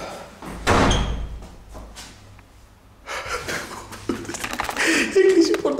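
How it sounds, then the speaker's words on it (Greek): A door swings shut and thuds closed inside an abandoned, forgotten house, followed by shuffling footsteps and movement nearby with a person breathing. "Έκλεισε η πόρτα πίσω."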